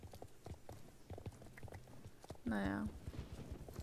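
Horse hooves clip-clop at a steady walking rhythm while riding in the video game Star Stable Online, soft and repetitive beneath someone speaking throughout.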